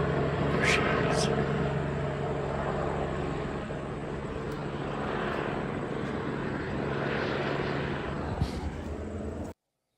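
A helicopter passes overhead outdoors, a steady droning rotor noise holding through the whole stretch with a faint rise and fall, while a person talks over it.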